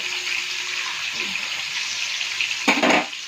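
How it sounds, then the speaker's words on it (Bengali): Boiled tamarind juice is poured into a pot of simmering sambar, a steady watery hiss with a brief louder splash near the end. "দেখুন তেঁতুলের জুসটা দিয়ে দিচ্ছি"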